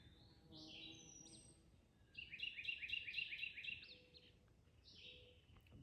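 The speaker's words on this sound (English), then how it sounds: "Beautiful birds singing." Several birds sing along an Appalachian Trail section in the morning, a soft chorus of bright chirps and trills that swells in the middle and then fades back to scattered calls over a quiet outdoor background.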